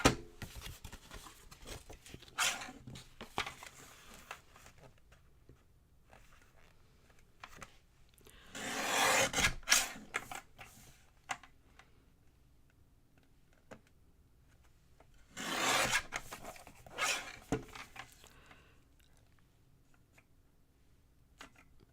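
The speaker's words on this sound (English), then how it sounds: "I'm going to just trim it down a little bit on the top and bottom so it'll fit on a regular card base." Paper trimmer cutting a greeting card down along the top and bottom to fit a standard card base. Two quiet scraping swipes stand out among scattered soft clicks and taps.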